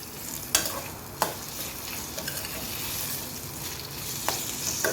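Chopped onion, tomato and curry leaves sauté in a pan with a steady close sizzle, broken by a few sharp spatula scrapes against the pan.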